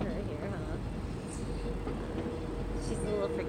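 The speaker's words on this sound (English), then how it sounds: "She's a little freaked out because the train's going by." A train rumbles past nearby, a steady low rolling drone with a faint high squeal of wheels, heard indoors at moderate level without clear talk over it.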